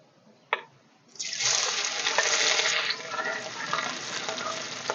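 After a quiet start and a single knock, sliced onions and green chillies hit hot oil, and a bright, hissing sizzle jumps up and then settles to a steadier, slightly softer crackle.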